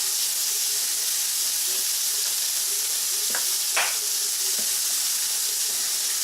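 Sourdough bread toasting in a pan, a steady loud sizzle and hiss with a few soft knocks and a sharper scrape as the slice is flipped.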